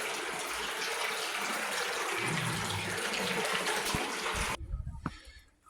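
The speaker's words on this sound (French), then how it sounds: "il y a une source à l'intérieur" Clear spring water flowing inside a stone tower, a steady loud rushing gush that holds for several seconds before cutting off abruptly into quieter background.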